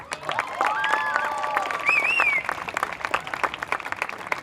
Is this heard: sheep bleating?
no